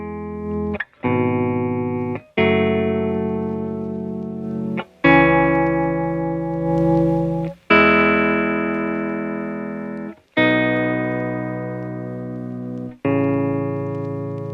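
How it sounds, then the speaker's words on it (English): A gritty, saturated guitar-like tone from a tube saturation plugin blending pentode and triode distortion plays sustained notes one after another, each ringing out with harmonic-rich distortion before stopping abruptly, no voices. "balance the pentode versus triode distortion"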